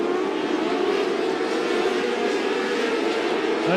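Race cars roar past on a short-track oval, a loud sustained engine drone with a rising and falling pitch, no talk over it.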